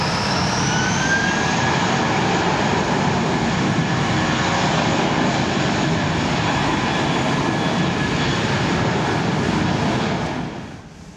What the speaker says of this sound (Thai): ด้วยภาพเครื่องบินที่กำลังวิ่งขึ้นจากสนามบินที่เกาะสมุยนะครับ เป็น Airbus A319 ของบางกอกแอร์เวย์นะครับ